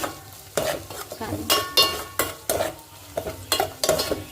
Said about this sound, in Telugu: ఇది కూడా వేసేసుకొని బాగా తిప్పేసుకుందాము